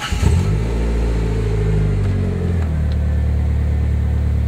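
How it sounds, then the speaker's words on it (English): Car engine starting with a quick revving burst, then settling into a steady low idle hum that continues alone and close. "To check your clutch adjustment, start the car."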